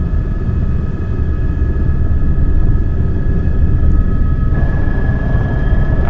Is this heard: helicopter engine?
yes